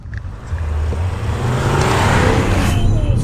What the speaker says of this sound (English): I'm just gonna take my foot off the brake and floor it